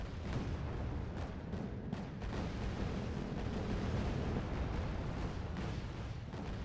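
A missile salvo firing in a combat video game, a sustained rumbling roar of launches and booms with several sharp bursts early on, fairly even and low in level, with no talking.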